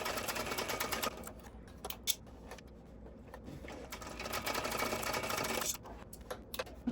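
A sewing machine runs at a 3.5 stitch length, stitching down both side seams of a Windsor bag with backstitching at the ends; a quiet, steady mechanical whirr with a few brief pauses and small clicks.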